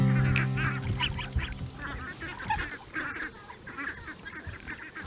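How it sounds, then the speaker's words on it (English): Farm ducks and geese honk and quack repeatedly in a loud, overlapping cluster at close range while being herded in for the night, with a brief low hum at the start. "Guys are trying to put the ducks and geese up for the night."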